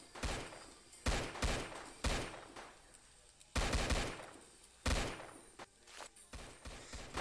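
Gunfire in the Roblox game Zombie Attack: repeated bursts of rapid shots in clustered volleys with brief gaps, loud and sharp, no voices over them.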